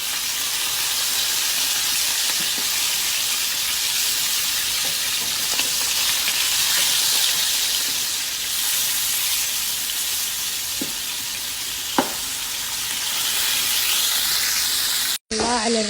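Fish pieces frying in hot oil for a fish stew, a loud, steady close-up sizzle and hiss with a few faint clicks, cutting off abruptly at the end.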